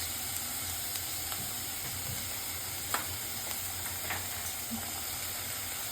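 Chicken with black pepper sautés in a pan with a soft, steady sizzle close by. A few faint clicks and scrapes of stirring sit on top, with no talk.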